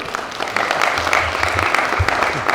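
Audience applause at a French film screening and debate, steady dense clapping throughout with a faint voice briefly underneath.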